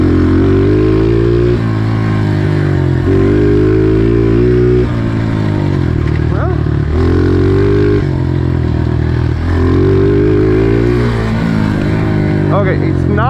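Honda CRF125F dirt bike with a modified exhaust and tuned fuelling, its engine droning steadily close by as it is ridden, rising and falling through several revs and gear changes, with a voice speaking over the engine.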